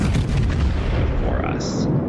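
Battleship Queen Elizabeth's main guns fire in World of Warships, a heavy booming salvo rolling into a long rumbling tail that fills the short stretch, with no talk over it.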